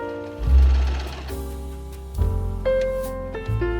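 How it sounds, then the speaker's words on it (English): A sewing machine stitching a buttonhole runs in short bursts, its motor whirring and needle thumping rapidly, stopping and restarting at different speeds. "my sewing machine does buttonholes pretty simply"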